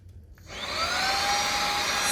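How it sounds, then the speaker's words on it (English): A Red Tiger handheld cordless vacuum switches on and spins up to a steady, whining hum with a rising tone, close and fairly loud, then holds an even drone with no talk. "So we're gonna turn it on to see how loud this thing is."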